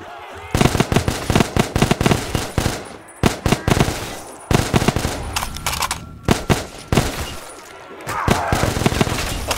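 Rapid bursts of automatic gunfire from an upgraded Scar rifle in Black Ops 3 Zombies, loud and close, firing in repeated volleys with short pauses between them.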